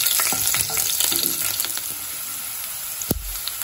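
Cumin and garlic fry in a pan for a bottle gourd and milk curry, giving a steady close hiss and sizzle with light stirring scrapes and a sharper knock near the end.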